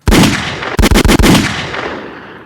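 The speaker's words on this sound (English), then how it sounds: "let me get a gunshot for Envy" A gunshot sound effect dropped into a podcast: one loud, close blast, then a rapid burst of four or five shots, all trailing off into a long echoing decay, with no speech.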